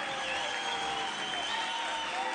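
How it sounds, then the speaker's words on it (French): Crowd applauding before a spider-walk race attempt, a continuous even roar of clapping at steady volume with no clear individual claps. "Applaudissements."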